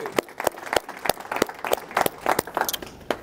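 A live audience at a diversity and inclusion event claps and cheers in scattered, uneven bursts, sharp hand claps spread across a modest crowd in a room.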